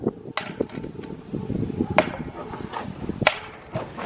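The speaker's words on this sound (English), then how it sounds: "when rocks are hitting or whatever debris off your tires, it doesn't make as much of a ting noise" A small rock strikes a metal roof lined underneath with an anti-condensation felt membrane, giving a few dull, damped taps rather than a ringing ting, with sharp knocks near the start, middle and end over low rumbling background.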